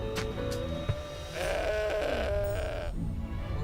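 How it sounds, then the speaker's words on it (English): A goat gives a loud, wavering bleat close by, lasting over a second, with a couple of faint taps before it and a quiet room hum underneath. "That's a goat."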